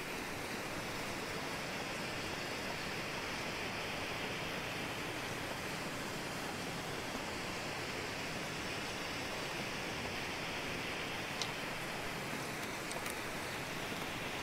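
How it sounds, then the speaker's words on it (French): Steady broadband rush of a waterfall in the survival game The Long Dark, a constant loud roar with no breaks that fills the whole stretch. "Voilà, vous suivez la cascade."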